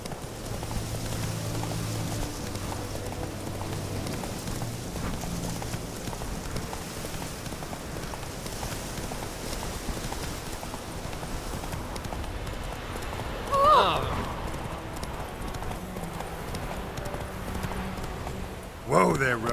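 Roach the horse's hooves clop steadily at a gallop across the ground in The Witcher 3, a continuous rhythmic beat over soft rain-like ambience, with a short louder burst near the end.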